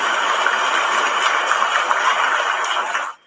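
Farm tractors idle together in a guard of honour in Aberdeenshire, giving a steady, even mechanical hum with a faint rattle. The hum holds at one level and then cuts off abruptly near the end, with no one talking.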